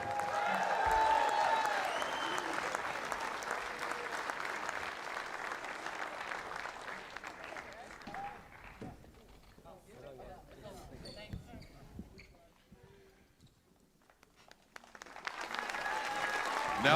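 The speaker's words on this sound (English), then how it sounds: "Ladies and gentlemen, another round of applause for the Northern Kahu." Crowd applause in an arena after a women's basketball grand final, broad clapping and cheering that dips into a quieter lull with scattered sounds before swelling again, an announcer's voice partly over it.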